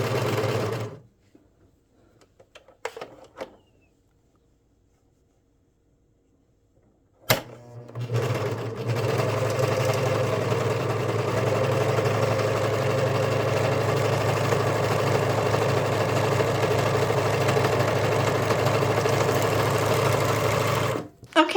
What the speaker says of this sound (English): Let us sew the side seams.